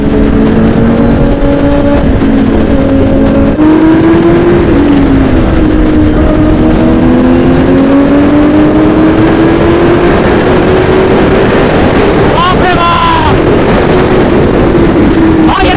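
Vehicles drive fast on the road during a Sunday ride: a loud, close, continuous engine roar with pitch slowly climbing as speed builds, mixed with heavy wind rush and brief passing sounds near the end.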